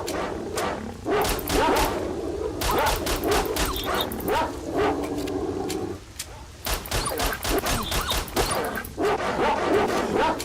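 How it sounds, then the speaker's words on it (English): Several dogs bark and yip in a dense, overlapping chorus close by, with short sharp bursts repeating throughout and a brief lull near the middle. "Stupid mutts. How many of those dogs are here?"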